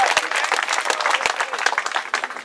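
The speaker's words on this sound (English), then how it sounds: "round of applause for buying organic whenever you can" Outdoor crowd at an anti-Monsanto march in Ann Arbor, Michigan, breaking into steady, dense applause, many hands clapping close and loud with a few whoops mixed in.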